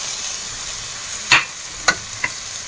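Chicken pieces tossed into softened onions in a frying pan, with a steady low sizzle throughout and three sharp stirring scrapes or clatters standing out near the end.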